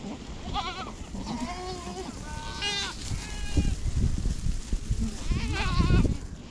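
Goats bleat repeatedly while being let out to a freshly fenced pasture, several wavering calls near and mid-distance over a background of outdoor noise and movement.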